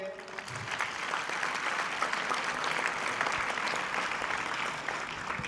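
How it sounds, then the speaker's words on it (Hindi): Loud, sustained applause from an audience celebrating JEE Main 2025 results, steady clapping filling the whole stretch with no pauses. "एक बार जोरदार तालियां हो जाए"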